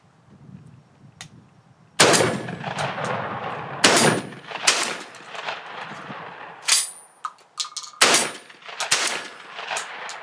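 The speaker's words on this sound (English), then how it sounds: "We'll be shooting the turkey magnum first." A shotgun loaded with 2 3/4 inch turkey magnum shells fires at steel targets outdoors, several loud sharp blasts spaced irregularly, each followed by a metallic ring and echo.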